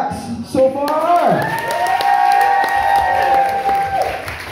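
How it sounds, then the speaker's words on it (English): A cabaret audience applauds and cheers for the acts, steady dense clapping with a loud sustained voice whooping over the crowd, continuing throughout. "So, round of applause for the acts so far!"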